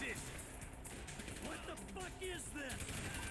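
Rapid bursts of gunfire in the video game GTA 5 rattle in a busy, continuous mix, with players talking over the shooting.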